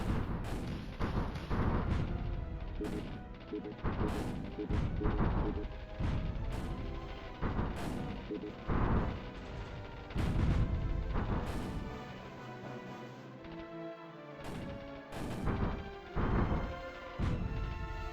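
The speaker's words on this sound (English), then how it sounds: "Let the artillery do the job." Artillery shells booming repeatedly in the strategy video game Rusted Warfare, loud heavy blasts landing every second or so in a steady barrage over continuous battle noise, with no talking.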